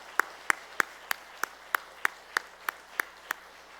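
A church congregation claps for retiring elders at a Sunday afternoon service, about eleven sharp claps in an even, steady rhythm, moderately distant and clear against a quiet room.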